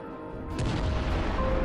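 A massive explosion as a drone strikes a Russian armored personnel carrier, a sudden deep boom swelling into a sustained loud roar and rumble that does not fade.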